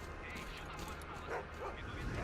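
Dogs in the video game STALKER: Clear Sky bark and yip in a noisy, busy stretch of game audio, with someone talking over them throughout.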